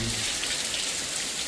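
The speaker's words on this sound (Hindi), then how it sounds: "इस तरह से बारिश।" Rain falls in a dense, continuous hiss, an even wash of drops with no breaks or voices.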